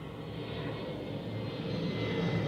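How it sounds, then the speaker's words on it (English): Airplane passing overhead near LAX, a steady, broad engine roar that swells slightly as it goes, loud and continuous with no voices over it. "Do you hear the plane going over me?"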